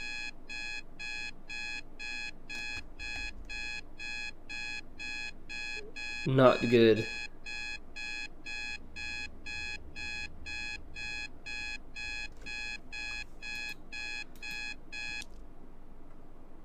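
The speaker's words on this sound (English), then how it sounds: "The alarm clock called for me for 3 hours before my appointment." A steady electronic alarm clock in the Loving Life video game beeps in an even, rapid pattern for about fifteen seconds before stopping, with a brief spoken remark heard partway through.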